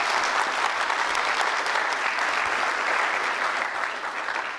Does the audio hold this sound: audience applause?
yes